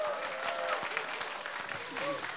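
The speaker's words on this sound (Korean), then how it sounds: "힘찬 박수 부탁드리겠습니다" A studio audience gives a brief burst of vigorous applause at an anniversary broadcast special, dense steady clapping with a faint voice underneath.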